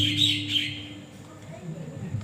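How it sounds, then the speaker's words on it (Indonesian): Birds chirp and tweet in a few bright bursts near the start, then fade under a low steady hum and background murmur at an outdoor neighborhood religious gathering. "Burung aja gembira."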